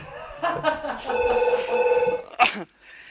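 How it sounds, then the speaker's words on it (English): A telephone rings with a warbling electronic trill, close and fairly loud, then a short burst of speech cuts in near the end. "phone's ringing again"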